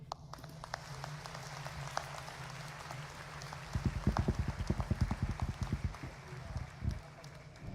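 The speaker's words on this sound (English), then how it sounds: "Please give them a round of applause." A burst of clapping from a crowd rises suddenly, continues for a few seconds, then fades, following a quieter stretch of room sound.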